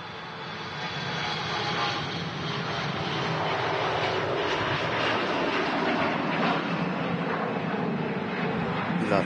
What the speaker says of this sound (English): That's CRJ900 off to Stockholm.